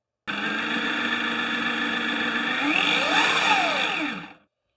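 A SkyRC SR5 RC motorcycle's gyro spins up to speed, producing a loud, steady electric whine that climbs in pitch over several seconds before cutting off abruptly.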